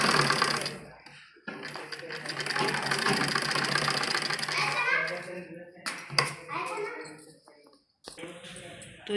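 A sewing machine stitches the neckline of a baby frock, its steady close whir running through most of the clip before stopping, with someone talking over it and brief handling noises at the end.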